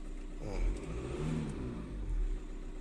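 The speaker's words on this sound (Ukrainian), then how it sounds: "Зараз чути, що двигун вже працює." Seat Alhambra 2.0 TDI BRT diesel engine, cold and running after an injector repair, idling steadily with a low rumble that swells briefly twice, close by with no talk.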